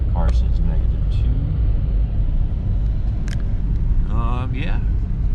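Steady low rumble of a car driving through a subzero blizzard in white-out conditions, heard from inside the cabin, with a voice talking over the constant road noise.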